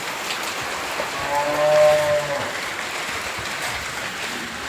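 Steady rain pouring down with a dense, hissing wash of noise, fairly close, with a brief tonal hum partway through.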